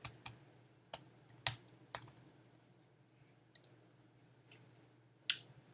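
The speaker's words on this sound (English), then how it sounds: "And you're going to put in your password." Quiet, sparse keystrokes on a computer keyboard as a password is typed, single clicks and short clusters separated by pauses, close and soft.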